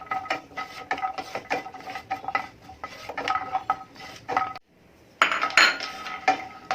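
Crushed cashews dry-roast in a pan without oil for besan ladoo, with a spoon stirring in rapid, uneven clinks and scrapes against the metal, a brief pause, then renewed clattering.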